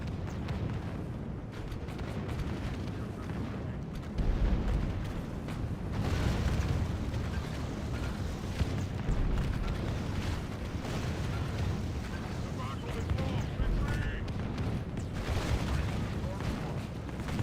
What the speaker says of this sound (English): He's just like loaded lower caliber cannons just spattering about everywhere.